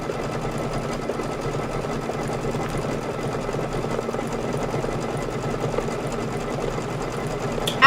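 An embroidery machine stitches a decorative outline for a Kimberbell Cuties table topper, a continuous, even, rapid mechanical hum at moderate loudness, with a brief knock at the very end.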